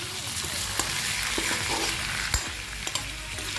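Dried shukloti fish frying in a pan, a steady dense sizzle with a few sharp clicks and scrapes of stirring scattered through it, close and fairly loud.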